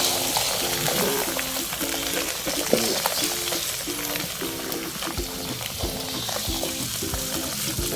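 Beaten egg poured into a hot pan for a stuffed omelette, frying with a steady crackling sizzle and repeated scraping stirs of a utensil, close and loud with no voices.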